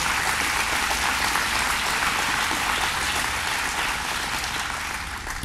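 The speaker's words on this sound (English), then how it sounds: "let's give them another round of applause" A crowd at a Rochester government announcement gives a round of applause, a loud, dense, continuous clapping that stays steady for about five seconds before easing slightly at the end, with no talking over it.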